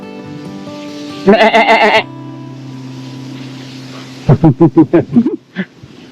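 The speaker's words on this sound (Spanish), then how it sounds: "¿Qué hacen aquí las cabras?" Goats bleat in two bouts, a long wavering cry followed by a quick run of shorter, shakier calls, fairly close over a steady low hum.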